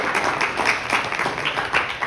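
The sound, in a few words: audience applause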